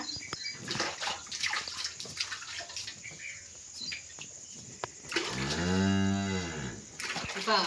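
A cow lows once, long and loud, in the middle of hand milking, after soft splashing water and faint background noises.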